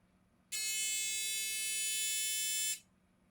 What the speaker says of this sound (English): Take it away, buzzer starts,